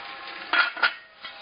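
A metal lid clanks down onto a pan of chicken in sweet wine, two quick ringing clinks close together, over a steady low bubbling hiss.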